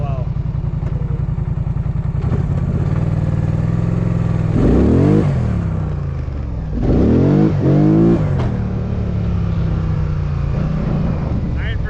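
A stock Polaris Sportsman 850 ATV on 30-inch mud tires idles with a rapid, even throb, then revs hard twice in loud surging bursts before settling back to idle.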